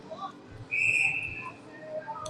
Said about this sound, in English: They blow the whistle.